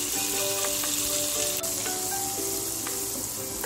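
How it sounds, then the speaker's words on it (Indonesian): Chopped garlic and coarsely chopped onion sizzle steadily in a hot pan, a continuous bright frying hiss with faint crackles throughout and no talk. "Ini bawang putihnya saya cincang, bawang bombaynya saya cincang kasar. Sekarang saya tumis ya."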